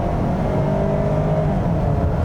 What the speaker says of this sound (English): A little sluggish until the turbo kicks in